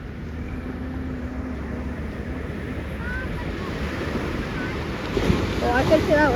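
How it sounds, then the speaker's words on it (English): Ocean waves at Aliso Beach roll and break in a steady low wash under wind noise, building louder near the end as a wave crashes close by; a voice speaks faintly. "Oh, I could see that wave like all the way over there."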